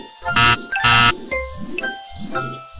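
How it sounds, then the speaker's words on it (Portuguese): A two-tone ding-dong doorbell chime in a house, sounding twice in close succession, loud and bright, followed by softer sliding tones from a children's song. "porta, campainha."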